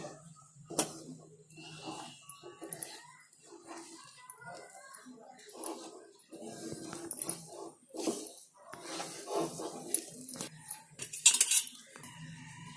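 A spoon stirs peanut katli mixture in a pan on a medium gas flame, with repeated metallic clinks and scrapes at an irregular pace and a voice talking between them.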